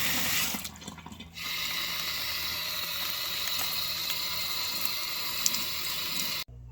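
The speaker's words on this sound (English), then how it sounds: "Now the next step is to simply water in your new seeds." Water pours onto newly sown collard green seeds in soil, a steady close hiss of running water that continues for several seconds after a brief dip near the start.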